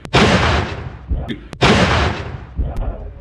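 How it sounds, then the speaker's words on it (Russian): A tank gun fires twice in battle at Bakhmut, blasting nearby dugouts: two loud, close booms about a second and a half apart, each followed by a long rumbling decay and debris. "Танк переводит орудие и поднимает на воздух соседние блиндажи."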